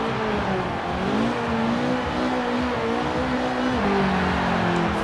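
A Mazda Miata drift car in Forza Horizon 4 hums with a steady, loud engine drone whose pitch dips and climbs as it revs, alone with no voices.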